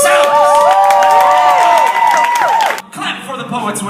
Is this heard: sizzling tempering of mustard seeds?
no